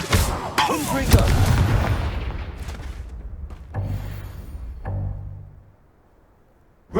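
A Confringo blasting spell goes off in Hogwarts Legacy: a loud, close explosive boom with a rumbling, crackling tail, followed by two further heavy thuds that die away into near silence.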